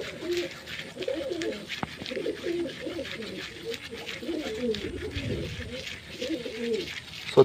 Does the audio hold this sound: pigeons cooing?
yes